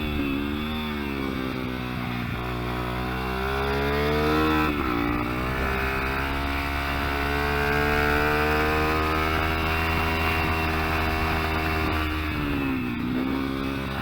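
A Kayo MR125 mini-GP bike, ridden on a track with a broken clutch lever, holds a loud steady single-cylinder engine note throughout, revs rising and falling with gear changes and a dip near the middle, no talking.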